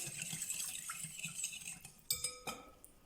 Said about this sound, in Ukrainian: В глибоку миску до тепленького молока всипаємо сіль та цукор перемішуємо трішки